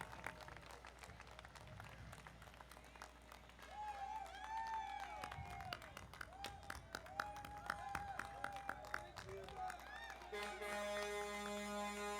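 A street crowd at an Armed Forces Day parade in Torrance applauds and cheers, a scattered, fairly distant clatter of claps with voices and whistles mixed in, growing fuller midway.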